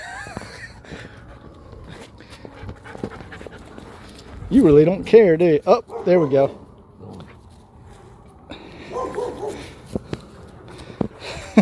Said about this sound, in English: what do you think of this little puppy?